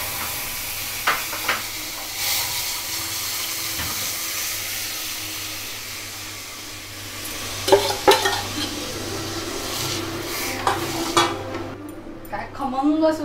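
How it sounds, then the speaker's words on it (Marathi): Lentil dal poured and stirred into a hot tempering with a pinch of asafoetida for a Maharashtrian fasting meal, giving a steady low sizzle and hiss with scraping spoon strokes and clinks of the pan, no talk. "आता ही जी डाळ आपण रवीने चांगली घोटून घेतलं ती आता मी फोडणीत घालते."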